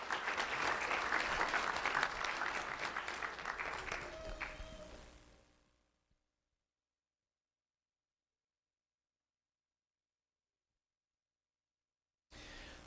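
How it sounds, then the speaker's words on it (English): Audience applause at a student award ceremony honoring seventh graders: a sustained round of clapping that fades out over several seconds, followed by silence and a brief return of sound at the end. "Let's have a round of applause for James Laboy."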